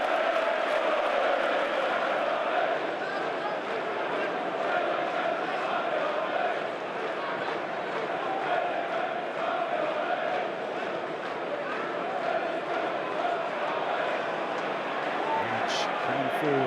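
Elland Road football crowd at a Leeds United versus Norwich City match roaring loudly and continuously, a dense wall of cheering that runs the whole time beneath steady commentary.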